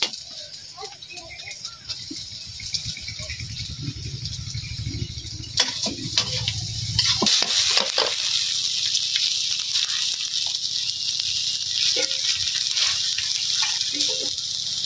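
Noodles hiss and crackle in hot oil, a loud sustained frying roar with clattering stirring, and voices talking over it.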